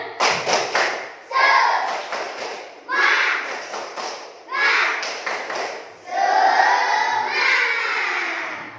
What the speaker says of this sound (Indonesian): Ibu minta tepuk semangatnya. Tepuk semangat.